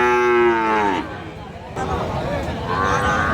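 Sahiwal bull calves at a busy cattle market moo loudly and close by in a long drawn-out call, followed by further lowing calls over a background of crowd chatter.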